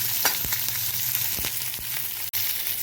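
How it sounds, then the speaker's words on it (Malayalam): Beetroot thoran frying in a pan gives a steady, close sizzle while a spoon stirs it, with soft scraping strokes and one brief dropout near the end; no voices. "നമുക്കിതൊന്ന് ഇളക്കാം നന്നായിട്ടൊന്ന് ഇളക്കാം"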